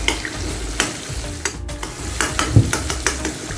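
Masala being stir-fried in a pan before beans are added, with a continuous sizzle broken by repeated scraping and stirring strokes of a spoon against the pan, close up and with no voices.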